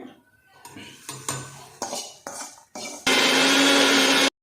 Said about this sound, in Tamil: இப்போ எடுத்து அரைக்க போகிறேன்.